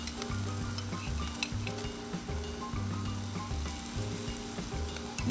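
Onions frying on a Blackstone 22-inch griddle, a steady loud sizzle that goes on throughout with a low humming tone running beneath it.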